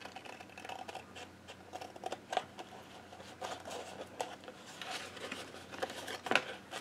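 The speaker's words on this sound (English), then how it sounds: "And then we're going to take our scissors and just cut along that." Scissors snip along a hand-drawn curve on gel-printed paper while making a gift box, giving quiet, irregular crisp cuts and paper rustle close to the microphone, with a sharper snip near the end.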